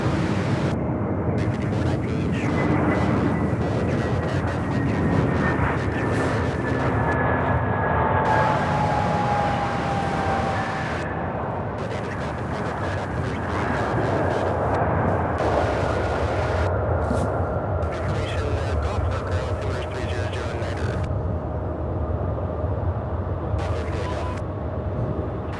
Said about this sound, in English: The A321neo is just now coming off the runway.